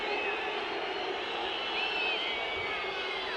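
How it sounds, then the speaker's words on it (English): A football crowd at a Concacaf Nations League match between Bonaire and El Salvador boos a referee decision, a sustained, dense roar of disapproval filling the stadium, steady and loud throughout. "Crowd booing the decision."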